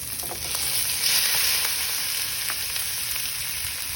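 Pork dropped into a hot pan with onions and spring onions for a cabbage stir fry, giving a loud, steady broadband sizzle that swells briefly, with faint crackles throughout and no talking.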